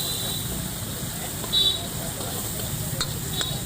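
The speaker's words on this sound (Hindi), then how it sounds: "ये हो गए मसालों को भूनने की तैयारी शुरू।" Ground spices with coriander and garam masala roast in a hot pan, giving a steady low sizzle and stirring noise close up, with a few brief metallic scrapes.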